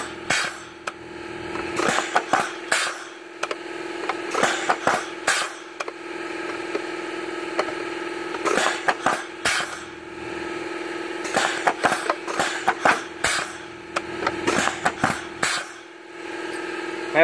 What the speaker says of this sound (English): So it's working through all 16 gears.